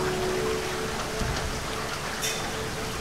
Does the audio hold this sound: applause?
no